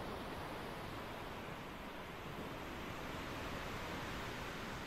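Ocean waves wash around a sailing ship in the Sailwind video game as a soft, unbroken broadband rush, fairly faint and even throughout with no talking.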